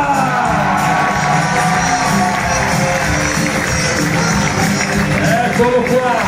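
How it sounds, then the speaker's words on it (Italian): A crowd cheering and clapping over continuous loud noise, with an Italian announcer's voice talking through it while introducing volleyball players. "Ancora l'applauso per Alessandro Coppa"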